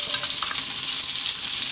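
Onion dropped into hot sunflower oil in a wok sizzles and hisses loudly and steadily, a dense close-up frying crackle with no voices.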